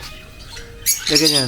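Birds in an aviary at a park in Jhargram, kept in hanging clay-pot nests, give a burst of high chirps and tweets near the end, rising over a person speaking close by.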